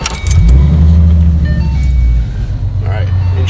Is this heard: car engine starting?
yes